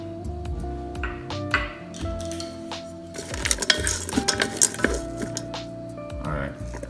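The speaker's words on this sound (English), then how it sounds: "so the fresh carrot and the peas. Just give a saute for a minute" Fresh carrots and peas sautéing in a Ninja Foodi, a soft sizzle with stirring, scraping and utensil clinks against the pot, growing busier midway, with speech in places.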